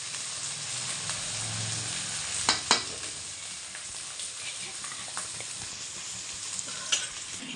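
Oil frying and sizzling steadily in a pan while ridge gourd curry is stirred, a continuous hiss with a few sharp clinks of the spoon against the pan.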